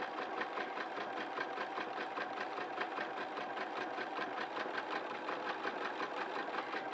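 A sewing machine runs steadily, stitching a zigzag while re-sewing a hat seam, a fast even mechanical patter that stays close and loud throughout with no talking.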